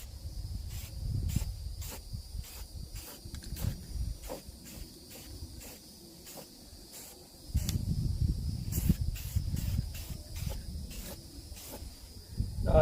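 Faint hissing bursts of spray paint on a Honda CR-V, repeated short sprays with a low rumble of wind or movement underneath and a steady high insect-like background tone.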